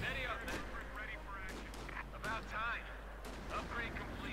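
Distant cannon and rifle fire pops repeatedly in a Company of Heroes 2 battle, sharp bursts scattered through the moment, heard beneath a commentator's talking.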